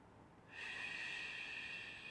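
A slow breath in Pilates and Qigong practice, one long steady airy rush that starts abruptly and holds, close and fairly loud, with no talking.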